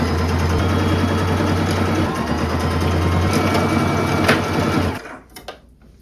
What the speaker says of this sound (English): I'm going to do a straight stitch along the side seams